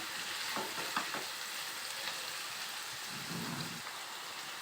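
Ivy gourd pieces sizzle and fry in a pan over high flame, with a steady crackling hiss throughout and a few soft scrapes of stirring partway through.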